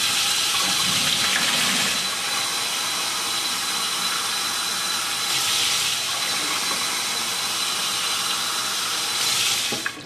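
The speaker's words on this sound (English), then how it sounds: "Fill keg with cold water to the 4-quart mark on the back." Cold tap water pours steadily into a home-brew beer keg, a loud, close, unbroken rushing hiss lasting the whole stretch with slight swells, no voices.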